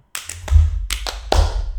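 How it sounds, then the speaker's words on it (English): Hands clap a short rhythm of six sharp claps in pairs, close and crisp, over a low background hum, with no talk. "So you clap, and then I clap off of after you clap."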